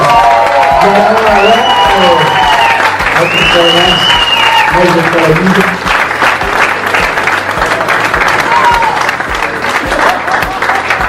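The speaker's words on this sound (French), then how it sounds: "Alors je vous donne tout un applaudissement." Loud applause and cheering from a crowd at a poker camp closing ceremony in an arena, with a voice speaking over the clapping and music-like tones mixed in throughout.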